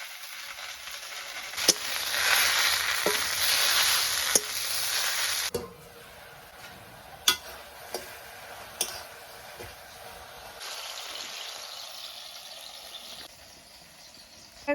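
Potatoes frying in a pan give a steady sizzle while a utensil stirs them with occasional sharp taps against the pan. The sizzle drops and returns partway through.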